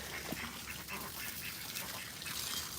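Rescue ducks at a farm quack faintly in a few scattered calls over steady outdoor background noise.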